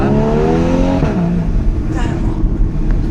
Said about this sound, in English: that's a factory sports exhaust from Porsche